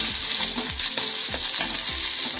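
Ingredients for an egg and potato curry fry loudly in a pan. A dense, crackling sizzle runs throughout, broken by repeated rhythmic scrapes of a spatula stirring against the pan.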